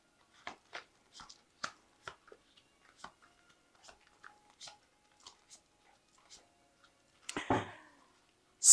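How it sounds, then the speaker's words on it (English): Crisp, quick tarot card riffles and taps come in bursts, close and clear, ending with a louder rustling shuffle near the end. "So I have shuffled this deck."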